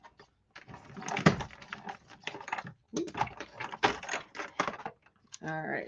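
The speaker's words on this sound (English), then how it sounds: "we're going to run it through the Big Boss Stampin' Cut and Emboss machine again" Stampin' Up Big Boss cut and emboss machine crunching a paper die sandwich through its rollers, a steady stretch of clicking, ratcheting mechanical noise in bursts, with a short voiced sound at the end.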